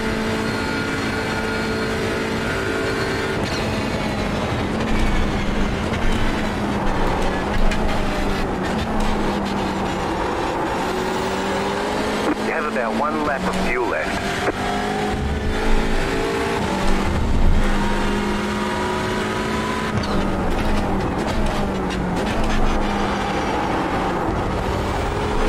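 A Hyundai Elantra race car pulls hard around the Daytona circuit, its engine droning steadily and climbing through the revs with gear changes, loud and continuous from an onboard position, with no talk.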